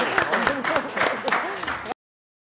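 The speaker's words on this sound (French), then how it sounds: "Oh, ils applaudissent, c'est vraiment sympa." Conference audience applauding a speaker, a dense burst of clapping with some voices mixed in, close and steady for about two seconds before cutting off abruptly.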